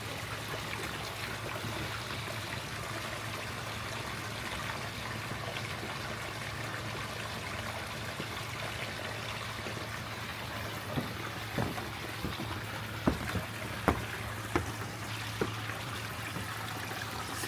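Water from a pond filter shower trickles softly and continuously at low level, with a few faint drips and splashes standing out near the end.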